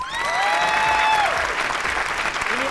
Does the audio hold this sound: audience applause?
yes